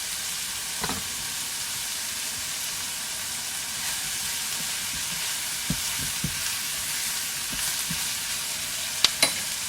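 Salted onion sizzles steadily in a pan in a village kitchen, a continuous close frying hiss with scattered small pops and light clicks, with no talking.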